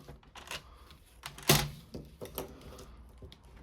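Designer series paper being folded into an origami shirt card: crisp, close creasing and rustling in short bursts, with one sharp, loud crinkle partway through.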